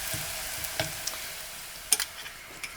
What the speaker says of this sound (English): make sure that it's in the oil, so that every single slice will be slightly crispy for your sauce